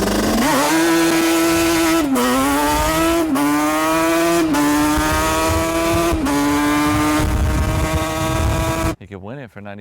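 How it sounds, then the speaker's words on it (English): A buzzing, high-pitched RC car engine revs hard and continuously, its pitch rising and dipping with throttle changes, loud and close, before cutting off near the end. "All right, we're racing this RC car right now."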